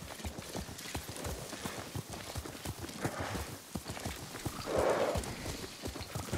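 Hooves clip-clop at a steady walking rhythm as a horse is ridden in the game Ghost of Tsushima, with a brief whinny and faint voices in the background.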